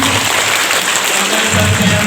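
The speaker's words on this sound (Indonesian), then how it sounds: "berikan tepuk tangan" Audience applause at an Indonesian parenting talk, a steady dense wash of clapping that runs the whole way through and swells slightly near the end, with faint voices mixed in.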